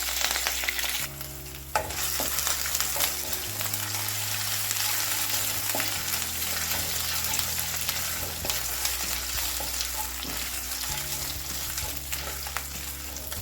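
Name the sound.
frying ginger and curry leaves in a pan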